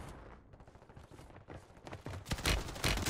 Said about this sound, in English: Shoot your gun for me